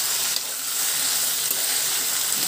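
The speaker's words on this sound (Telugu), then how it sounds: "పచ్చిమిరపకాయలు, బెండకాయలు రెండే కలిపి వేయించుకుంటే సరిపోతుంది." Green chillies and okra frying together in a pan, a steady close sizzle and hiss that carries on without a break and with no talking.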